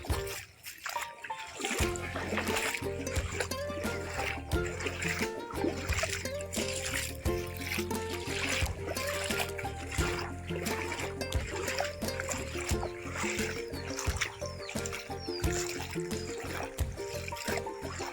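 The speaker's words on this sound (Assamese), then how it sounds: "পানী আহি আছে নিশ্চয় পানী" Floodwater in Lakhimpur flows and trickles with splashing and dribbling, fairly steady and close, after a short quieter opening, with a low rumbling undertone throughout.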